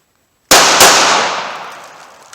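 Two sharp, loud gunshots from a .380 Ruger LCP pocket pistol fired from inside the front pocket of jeans, the cracks close together and followed by a long decaying outdoor echo.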